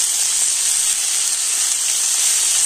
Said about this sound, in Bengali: আর এখন আমি কুমড়ো আলুটা একটু লাল দিয়ে ভেজে নেব।